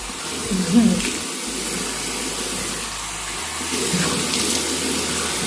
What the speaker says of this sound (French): De l'eau tiède. Pas de l'eau froide, pas de l'eau chaude.